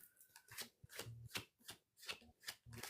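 Tarot cards being shuffled by hand in quiet, soft repeated riffling and slapping bursts at an uneven rhythm, close but faint.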